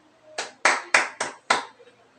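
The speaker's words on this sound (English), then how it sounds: "Class, give him 5 claps for Mr. Brian." A classroom of students claps five times in a steady, evenly spaced rhythm, each clap sharp and close, with a short pause before the final clap.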